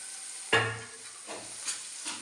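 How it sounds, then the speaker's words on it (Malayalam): Round-sliced green chillies being stir-fried for fried rice, with a sharp sizzle as they hit the pan, then a few softer bursts of hissing and stirring in an otherwise quiet kitchen. "ഞാനൊരു ശകലം പച്ചമുളക് എരിവിന് വേണ്ടി ചേർത്ത് കൊടുക്കുന്നുണ്ട്."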